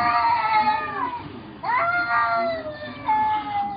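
Cats in a children's park yowl and wail in long, wavering caterwauls, three drawn-out rising and falling cries one after another, loud and close.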